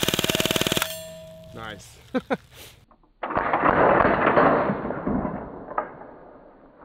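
A full-auto BB gun rips off a fast rattling burst with the stock collapsed, followed by a couple of metallic pings from targets, then a longer rustling noise; a voice speaks briefly.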